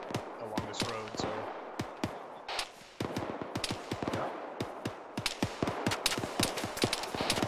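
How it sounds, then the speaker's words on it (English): ArmA 3 gunfire with rounds striking close by: rapid, sharp cracks and thuds come in uneven clusters, growing denser toward the end, with no talking. "Sounds like rounds impacting really close to us"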